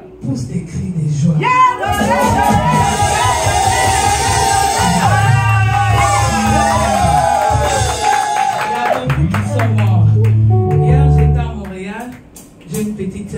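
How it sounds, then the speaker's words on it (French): A church worship congregation shouting and whooping for joy, loud and crowded over music, with voices rising and yelling together in a sustained swell. "Pousse des cris de joie."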